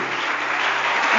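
A church congregation applauds the Holy Spirit during a French-language sermon, producing a dense, loud burst of clapping that fills the whole moment.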